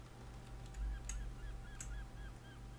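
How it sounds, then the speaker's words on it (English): Seagulls in the naval game Silent Hunter IV give a series of short, fairly faint honking cries over a steady low engine rumble, with no talk. "Even the seagulls are trying to kill me."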